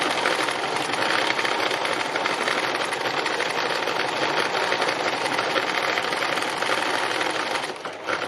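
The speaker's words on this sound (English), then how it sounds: "how fast you press your accelerator pedal and how fast you move your fabric as to what length of stitch that you will get" A sewing machine running continuously at speed for free machine embroidery, a dense, even buzzing whir with rapid needle clatter, close and loud, slowing slightly at the very end.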